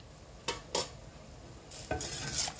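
Quiet clinks and scrapes of a utensil stirring sugar in a pot, a few separate strokes with soft bubbling between them.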